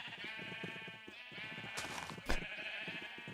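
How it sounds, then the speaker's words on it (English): Sheep in the Minecraft video game bleating in a rapid, repeated series of loud, close calls, with a sharper burst near the end and no talk over them. "But I need to move the sheep now"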